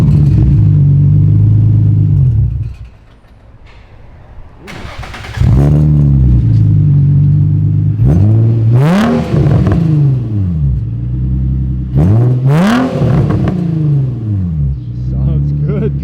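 Rebuilt Nissan 350Z engine, running with a replaced ECU and new sensors, cranks and fires, then settles into a loud, close idle broken by several sharp revs that rise and fall, with voices talking over it.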